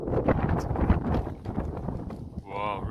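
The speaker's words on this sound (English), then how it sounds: "whoa, really windy." Strong wind buffeting a microphone outdoors, a continuous rough low rumble that surges and drops throughout, with a brief higher tonal sound near the end.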